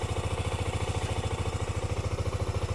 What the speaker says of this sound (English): Okay, we can give it a bit of a rev.